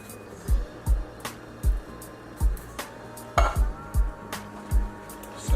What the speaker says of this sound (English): Gonna go in with our second can of diced tomatoes.